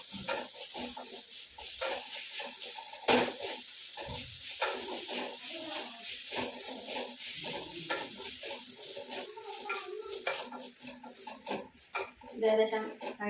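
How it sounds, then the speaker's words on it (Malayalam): Beef curry stirred in a pot, with intermittent scraping and clinking of a spoon against the pot over a soft sizzle, close and moderately loud. "നന്നായി ഇളക്കി കൊടുക്കാം"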